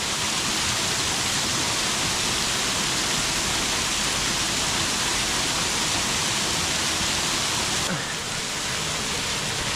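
Loud, continuous broadband rushing of a waterfall's cascading water, steady and close throughout with no pauses.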